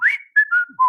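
A man whistles in imitation of a cockatiel call: a rising, sliding note followed by several short tonal phrases, clear and close with brief gaps between them and no speech.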